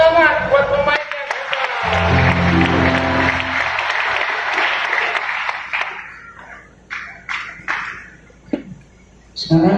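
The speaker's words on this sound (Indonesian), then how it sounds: "Tepuk tangan buat pemain yang" An audience at the 25th anniversary celebration of PESAT Nabire applauds the players, a broad burst of clapping mixed with voices and music that thins into a few scattered claps.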